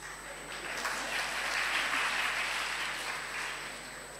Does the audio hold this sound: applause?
yes